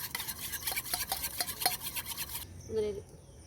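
Eggs beaten with salt in a bowl with a utensil for a momo recipe, a quick run of rhythmic scraping, clattering strokes that stops abruptly, followed by a brief quieter clink and a faint murmur.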